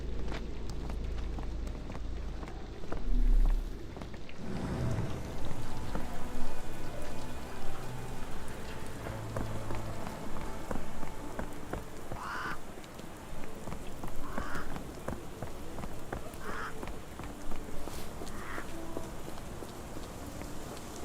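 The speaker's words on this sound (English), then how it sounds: "This dreary rain is making a miserable day even worse." Steady rain falls across a gloomy scene in the Sherlock Holmes The Awakened game, a constant wash of patter with faint splashes and soft thuds, ambient and continuous with no voices.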